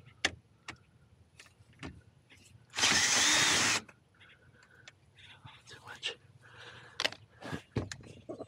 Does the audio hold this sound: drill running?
yes